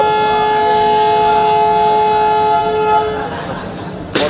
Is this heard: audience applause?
no